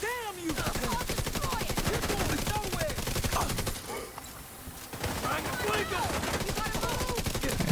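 Assault rifle and SMG fire in a video game comes in rapid, sustained bursts with a brief lull midway. A voice talks quietly underneath the shooting.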